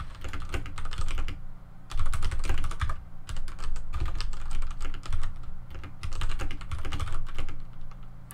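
Rapid clattering of computer keyboard keys during a Payday 2 session, typed in quick bursts with short pauses between, close and fairly loud with no talking.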